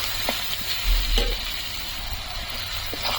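Dried chili paste, ground on a grinding stone, frying with browned onions for a dried fish mash, giving a loud, continuous close sizzle with a few soft stirring knocks, with no talk.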